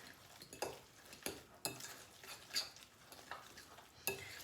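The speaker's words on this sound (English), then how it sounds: "I'm going to give that a good stir." A salted, peppered mixture stirred in a bowl, with faint scrapes and light clinks of a utensil against the bowl's sides at an uneven rhythm, quiet and close, with no voices.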